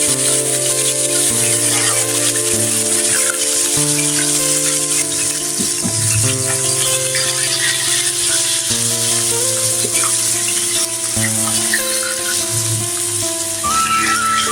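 Chicken cubes fry with onion in hot oil, a steady crackling sizzle running throughout beneath loud melodic background music.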